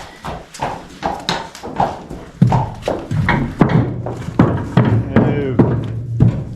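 Draft horses walk on a hard surface, their hooves clip-clopping in a steady, uneven rhythm of close, loud thuds with a low rumble underneath.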